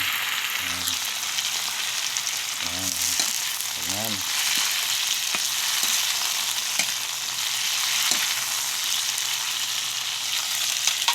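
Garlic, onion and tomato sauté in a hot pan, giving a steady, close sizzle that fills the whole stretch, with a few short bursts of voiced sound near the start.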